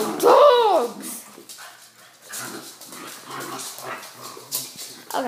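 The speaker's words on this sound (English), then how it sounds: "Dogs!" Pet dogs bark indoors at home, with one loud, close bark at the start followed by fainter yips and whimpers while a person talks.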